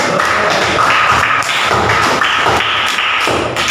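A class of students claps in rhythm on a teacher's cue during a school lesson, a steady run of loud, dense, regular hand claps with no speech.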